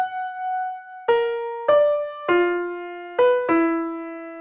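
Violin line from the second violin part of Tchaikovsky's Pathétique Symphony, played alone as a short sequence of about six bowed notes, each with a clear attack and a held tone. The melody steps down and back up.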